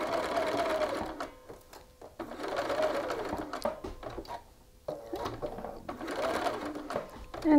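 A sewing machine stitches a shirt collar seam in short bursts, stopping and restarting every few seconds as the fabric is repositioned. Quiet talk accompanies the stitching.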